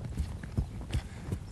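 A ridden horse's hooves strike the ground in a steady, rhythmic clip-clop, several muffled thuds at an even walking pace, close by with soft background noise.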